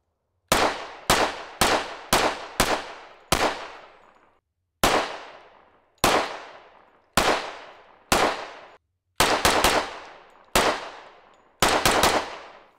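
A 10mm Smith & Wesson M&P pistol fires RBS ammunition outdoors in loud, sharp, close shots with ringing decays, first a quick string of six, then single shots and a few rapid doubles spaced across the stretch.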